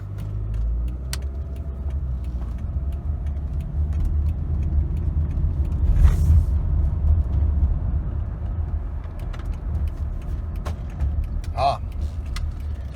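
A 2007 Toyota Camry Hybrid runs at a car wash, giving a low steady engine and road rumble with occasional light jangles and clicks inside the cabin.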